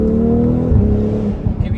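A BMW X3 M40i with an MHD stage 2+ tune revving hard close by, a loud sustained engine drone that dips and surges again, with no voices.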